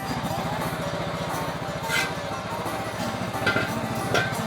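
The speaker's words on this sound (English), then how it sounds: "We're gonna see if the old lawnmower will move this thing." An old riding lawn mower's small engine runs steadily up close while towing a junkyard jet boat down a driveway, a low, even chugging throb with a few brief clinks and bumps on top.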